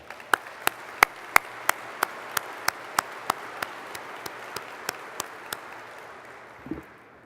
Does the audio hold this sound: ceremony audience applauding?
yes